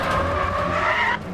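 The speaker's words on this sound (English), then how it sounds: "This is all the logic that goes into just playing this tire skid sounds" Tire skid from the racing video game Need for Speed: The Run: a loud, sustained squeal of rubber sliding on pavement with faint reverb behind it, dropping away abruptly near the end.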